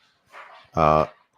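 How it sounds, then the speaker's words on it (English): A dog in the background gives one short, strong bark, close and loud, after some soft murmuring and between stretches of quiet. "that's my dog in the background"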